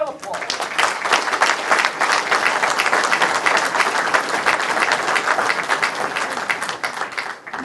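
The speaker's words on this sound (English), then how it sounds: "Round of applause." An audience applauds an award winner at a wrestling awards event, dense sustained clapping from a crowd filling the room, loud and steady for several seconds before tapering slightly at the end.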